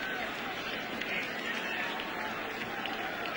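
A 56,354-strong crowd at Yankee Stadium for a 2004 playoff baseball game applauds in a dense, steady roar of clapping and cheering that holds evenly throughout, with an announcer talking over it.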